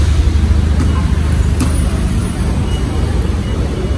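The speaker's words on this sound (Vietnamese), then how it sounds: "Ở ngoài này mình thấy xe taxi rất là nhiều." Road traffic rumbles steadily outside a Malaysian airport where many taxis wait, a continuous low engine drone from cars and buses at moderate distance, with a couple of brief higher-pitched clicks or squeaks standing out above it.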